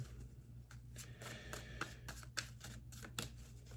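Tarot cards are shuffled in a steady run of soft riffling slaps and flicks, close and fairly quiet, with no talking.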